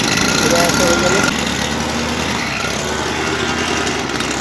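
At a palm plantation, a small machine engine idles with a steady buzzing drone, its pitch dropping slightly after a second, while someone speaks over it nearby.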